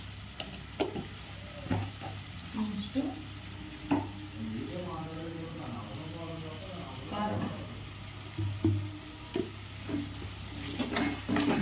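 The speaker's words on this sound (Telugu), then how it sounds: "కొంచెం పచ్చి వాసన పోయేదాకా ఫ్రై చేసుకోవాలి" Potato kurma masala with turmeric fries and is stirred in a pan, giving a soft sizzle with light scraping strokes while someone talks over it in the foreground.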